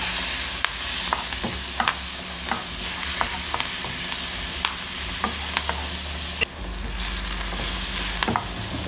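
Butter sizzles steadily in a hot pan while tofu sisig is started, a continuous frying hiss dotted with small pops and stirring scrapes, close and fairly loud with no talking.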